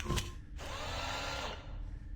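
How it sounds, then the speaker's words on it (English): A drill whirs into fluid tanks in the video game STASIS, a short, close mechanical buzz lasting about a second after a brief click. "Nah, we're gonna drill it."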